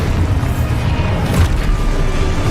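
A Repulso spell blast in Hogwarts Legacy, heard as a loud, deep booming burst that rolls on through the whole moment with a dense rumbling low end.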